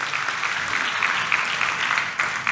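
A church congregation claps for Jesus in a dense, lively round of applause that holds at an even level throughout.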